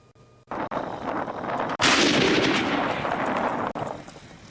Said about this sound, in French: Les artilleurs du groupement d'artillerie et du bataillon d'intervention rapide passent à l'exercice du tir.